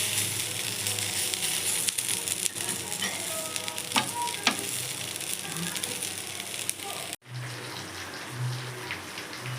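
Slices of raw banana coated in masala fry and crackle in oil, a close, constant sizzle with occasional scrapes and clicks as pieces are turned, a voice speaking briefly over it.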